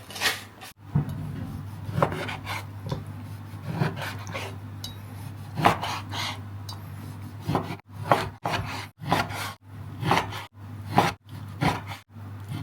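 A knife cuts eggplant, tomato and chili on a board in uneven strokes, a run of close, crisp chops with short scraping rubs between the cuts.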